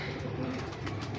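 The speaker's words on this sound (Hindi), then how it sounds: "ये मेरे हाथ में ना ओरिजिनल गोल्डन कबूतर हैं" A golden Kasuri pigeon held in the hand gives a soft, low, continuous coo, close by and fairly loud, with no talking over it.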